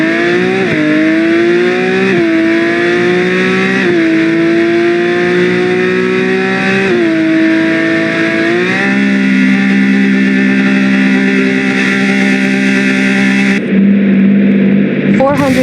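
Lamborghini engine in the driving game BeamNG.Drive, a loud sustained close engine note that climbs and drops through repeated gear shifts before settling into a lower drone.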